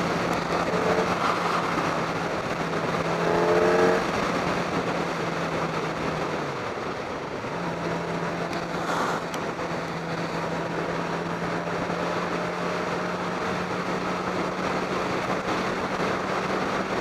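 A 2012 Kawasaki ZX-10R sport bike engine drones steadily through the gears, its tone rising, dipping briefly around a shift, then climbing again under constant wind rush, with no talking.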